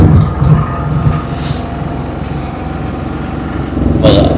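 Inside a moving train on a Konkan journey, a loud continuous rumble and rattle of the carriage with rhythmic clatter, swelling slightly at the start and end, no talk.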